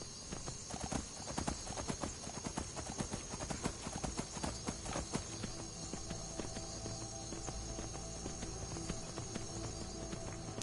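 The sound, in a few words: horse hooves clip-clopping in Skyrim video game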